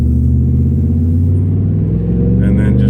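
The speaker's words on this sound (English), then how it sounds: "We're waiting on a vehicle." A vehicle passes on a rural road near a farm, a steady low engine rumble close by that builds and fades over a few seconds, heard from inside a moving vehicle with speech around it.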